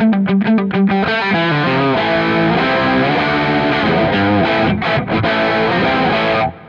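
Electric guitar on a heavily saturated distortion tone through a NUX MG300 multi-effects pedal, with quick palm-muted chugs followed by sustained overdriven chords and riffs, loud and upfront before an abrupt stop.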